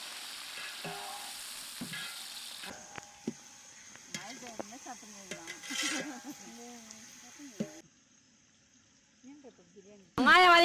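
Onions frying in hot oil with mustard seeds and curry leaves in a village kitchen during rain, a soft steady sizzle with stirring clatter and brief voices over it, ending in a louder burst.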